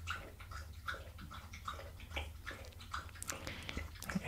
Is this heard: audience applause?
no